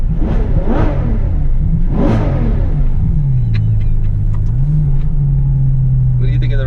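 A Ferrari's engine revs up sharply twice in quick bursts, loud and close from inside the car, then settles into a steady idle hum while people talk over it.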